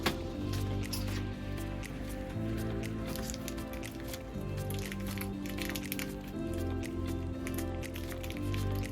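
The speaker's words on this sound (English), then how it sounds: "the first thing we do is pour in some pebbles" Small pebbles pour into a container for a miniature craft, giving a continuous patter of tiny clicks and rattles over soft background music.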